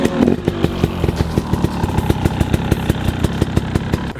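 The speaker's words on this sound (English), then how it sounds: "I just love a crisp 2-stroke that works like magic" A two-stroke enduro motorcycle engine idles close by, still slightly cold, putting out a steady, crisp popping rhythm with regular pulses and no talk over it.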